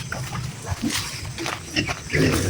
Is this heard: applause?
no